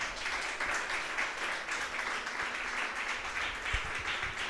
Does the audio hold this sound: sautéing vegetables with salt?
no